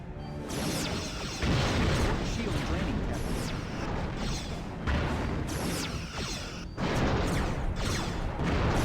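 Weapons fire in a Star Trek starship battle game sounds as loud, dense bursts of blasts and crashing impacts in a few long waves, with brief dips between them.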